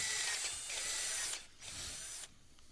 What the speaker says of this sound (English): I need to drill through the pin, but I need to drill it kind of sideways through it.